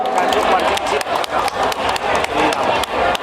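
Clapping and cheering rise from a crowd at a Muay Thai fight event, with sharp irregular claps scattered through a busy roar and an announcer's voice speaking over it.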